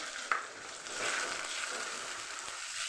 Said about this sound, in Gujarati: અને સરસ આપણે ટમેટાને સાતળીને આમાં પાકવા દઈશું